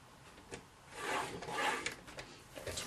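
Designer paper for one-sheet note cards is scored at half-inch and one-inch marks, giving a soft, swelling scrape that rises and fades twice against faint background noise.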